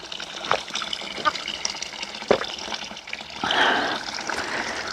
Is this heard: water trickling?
yes